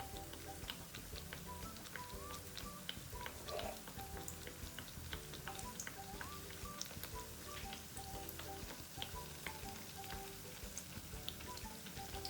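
Pakoras frying in hot oil give a steady, dense crackle with scattered ticks and pops. It runs evenly throughout at a moderate, close-up level, with no voices.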